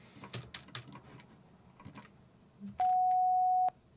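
A synthesized test tone sounds as a steady pure sine, about a second long and loud against quiet background clicks and typing.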